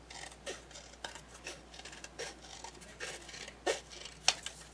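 Scissors trimming a thick journal cover, giving a few soft snips and rustles with two sharper cuts near the end, fairly quiet and close.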